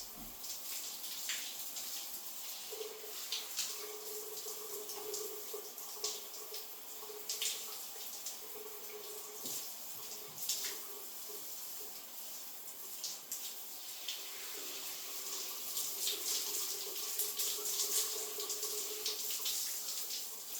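Water runs steadily from a tap or shower while shampoo is rinsed out of hair, a continuous hissing splash with occasional spatters, moderately close and without talking.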